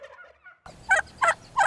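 A male wild turkey gobbles: a brief faint chirp, then three loud, rattling gobble bursts in steady succession, close by and clear.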